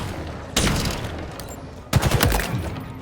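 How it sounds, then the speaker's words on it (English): Heat Wave weapon fire in the Halo Infinite game, two loud bursts of gunfire about a second and a half apart, each ringing out briefly over steady background game noise. "I'm going to shoot him up pretty good with the heat wave"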